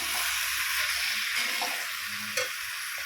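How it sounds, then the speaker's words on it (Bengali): Taro flowers are stirred into hot frying oil and spices, giving a steady, close sizzle and hiss with faint scraping of the stirring, no voices. "এই সময় ঠিক দিয়ে দেবো ফুল ভাবানোগুলো, দিয়ে আর হালকা হাতে নাড়তে হবে"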